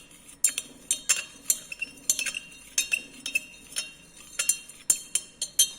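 Glass stirring rod clinking against glassware while potassium permanganate solution is mixed in water, a string of sharp, bright taps at an irregular rhythm, close and fairly quiet, with no talking.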